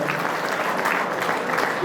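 A crowd at an oath-taking ceremony for a newly formed youth service committee executive breaks into brisk, dense applause, loud and sustained for the whole short stretch.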